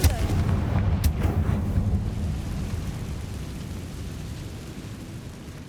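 The Confringo explosive spell in Hogwarts Legacy lets off a sharp blast followed by a booming, rumbling decay that fades over several seconds, with no talk over it.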